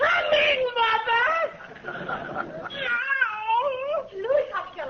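Yowling cat on a 1940s Abbott and Costello radio comedy Christmas show, voiced as drawn-out, wavering wails in several bursts with laughter-like gasps between, close and loud; a human voice likely imitates the cat.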